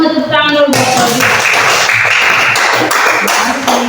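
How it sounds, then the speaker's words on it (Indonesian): A classroom of children claps for a student named Claudia, a dense burst of applause that starts right after a brief voice and carries on to the end. "Semua tepuk tangan dulu buat Claudia."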